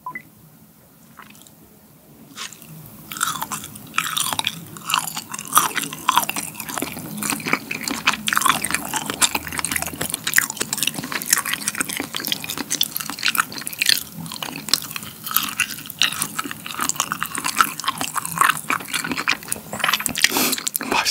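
Close, wet chewing of sea grapes and squid stuffed with fish roe, with a dense run of squishy, crunchy bites and popping clicks that keeps going after a brief quiet opening, with no talking.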